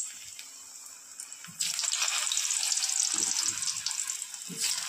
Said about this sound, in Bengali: প্রথমেই ভেজে নেবো আলুটা।